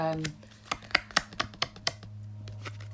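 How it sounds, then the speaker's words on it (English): Chrysalis Tarot cards of sturdy, bendy cardstock are riffle shuffled, a quick series of crisp clicking flutters and snaps, close and fairly quiet with a low hum underneath. "it riffle shuffles really nicely"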